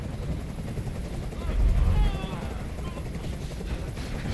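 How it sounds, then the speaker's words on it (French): A helicopter in the video game Detroit: Become Human churns with a steady, low chopping rumble throughout, swelling briefly near the middle, with faint voices in the background. "Fais dégager cet hélicoptère, maintenant!"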